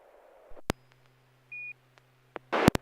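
Morse code tone from a Star Code 11 walkie-talkie: a single short, steady high beep stands alone between scattered clicks and a low constant hum, followed by a burst of louder clicking noise at the end.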